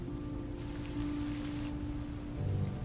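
Steady rain falls at an outdoor wedding, a soft continuous hiss that swells briefly in the middle, with a low sustained musical tone underneath.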